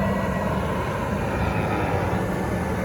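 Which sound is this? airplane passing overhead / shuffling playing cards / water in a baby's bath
airplane passing overhead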